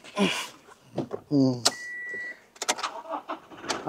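A Toyota Innova Crysta 2.4 diesel starts up close by: a short crank and catch, then an uneven idle settling in, with a brief electronic chime from the cabin.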